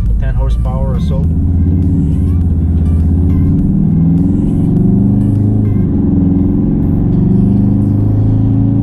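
VW Golf R MK7.5 cruising at highway speed near 110, steady low road and engine rumble inside the cabin with a person talking over it throughout.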